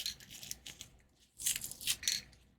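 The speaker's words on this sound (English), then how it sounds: "That's the sound of me peeling the label off of this" Bursts of sticky tearing and crackling as a paper label is peeled off a glass pasta sauce jar, close up, with brief pauses between pulls.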